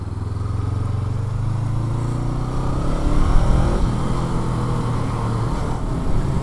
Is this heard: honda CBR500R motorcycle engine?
yes